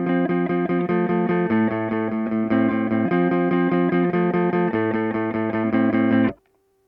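A left-handed 2016 ebony Epiphone Les Paul Custom Pro electric guitar on the bridge pickup, playing a loud, thick repeating chord pattern with shifting bass notes, sustained evenly before cutting off abruptly at the end.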